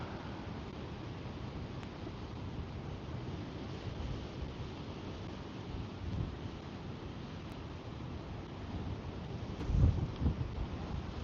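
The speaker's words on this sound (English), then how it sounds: "I don't know if you guys can hear this wind" Steady roaring wind with 25 to 30 mph gusts buffets the microphone at a pond throughout, with a heavier gust rumbling low near the end; no voices.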